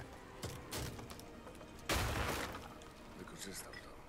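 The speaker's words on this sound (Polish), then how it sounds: "Jeden strzał z pistoletu wystarczy, żeby wysadzić butlę?" A sharp pistol shot in the video game Days Gone blows up a gas canister, a burst of breaking, shattering noise followed by lingering debris rattle, alongside a few softer impacts and faint talk.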